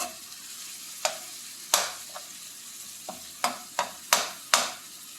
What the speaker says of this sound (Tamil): வெங்காயம், தக்காளி, பூண்டு இந்த கிரேவிலேயே சூப்பராக வதங்கணும்.